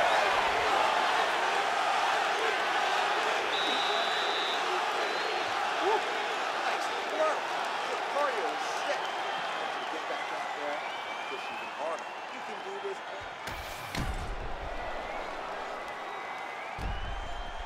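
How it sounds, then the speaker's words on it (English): Virtual arena crowd in the UFC 5 video game cheering and applauding between rounds of a Khabib Nurmagomedov vs Fedor Emelianenko fight, a steady broad roar filling the whole stretch under a commentator's voice. "the crowd voicing its appreciation after that crazy sequence in the previous round"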